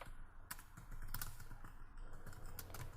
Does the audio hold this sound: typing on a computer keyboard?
yes